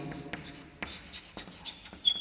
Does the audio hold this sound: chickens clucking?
no